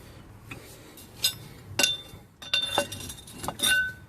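Metal ring spanner clinking against a brake bolt on a BA Ford Falcon during front brake work, several sharp, bright taps and clinks spaced irregularly over quiet workshop background.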